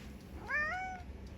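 A ginger cat gives a single clear, drawn-out meow, close by and moderately loud, against a quiet kitchen background.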